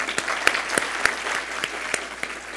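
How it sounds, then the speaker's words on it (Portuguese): An audience at a legal technology event applauds steadily, with distinct nearby claps standing out over a dense, moderately loud patter and no talk. "Queria pedir uma salva de palmas aí para todo mundo."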